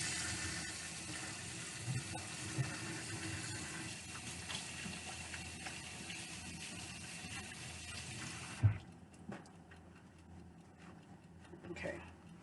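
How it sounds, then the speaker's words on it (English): Water runs steadily from a kitchen tap as hands are washed under it, a continuous broadband hiss for several seconds that cuts off abruptly, followed by a few quiet handling knocks. "And then I'm going to wash my hands."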